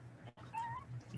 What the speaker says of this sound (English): I do have some kittens here.